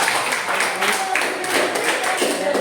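A class of students applauds in a classroom, a loose, moderately loud patter of many hands clapping, with faint voices mixed in.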